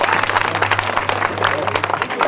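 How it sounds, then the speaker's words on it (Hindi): A village crowd in Rawat Khera applauds loudly to welcome a leader after his election victory, with dense, uneven clapping, background hum and some voices mixed in. "जोरदार तालियों के साथ स्वागत होना चाहिए। जोरदार तालियां।"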